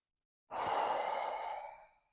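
A single deep, drawn-out breath lasts about a second and a half, close and fairly soft, during a diaphragmatic breathing exercise for pelvic floor recovery after childbirth.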